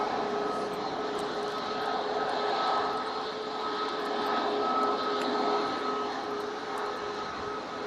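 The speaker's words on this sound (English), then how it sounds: "321 Neo now going out." A Jet2 Airbus A321neo roars down the runway on takeoff, a sustained steady engine drone with a faint whine tone, heard from a distance and holding at a constant level.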